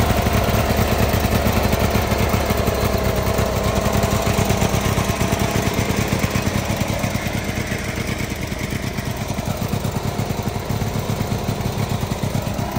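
Murray garden tractor from around 1980, fitted with a sleeve hitch, runs with a steady, loud small-engine drone and rapid rhythmic chugging throughout, close by with no talking.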